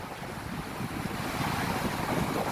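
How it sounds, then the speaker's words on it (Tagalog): Rough sea surf roars continuously and loudly, with steady crashing wave noise and wind buffeting the microphone. "Grabe, galit na galit ang dagat."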